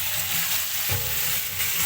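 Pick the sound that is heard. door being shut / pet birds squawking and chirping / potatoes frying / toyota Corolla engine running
potatoes frying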